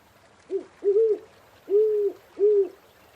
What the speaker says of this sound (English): A large owl seems to be watching you.